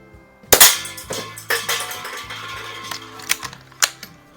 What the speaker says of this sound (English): let's go ahead and shoot the can a few times here.